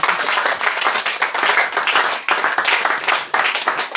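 A church congregation at an evening service applauds in acclaim of Jesus, with loud, dense, continuous clapping that swells and dips over a few seconds.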